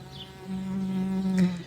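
A hoverfly buzzes right against a furry microphone windscreen, a close, steady insect drone that swells in the middle before a brief louder flutter.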